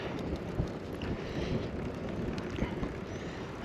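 Steady wind buffets the microphone during a recumbent trike ride in France, with a constant low rumble and rushing noise, loud and close throughout.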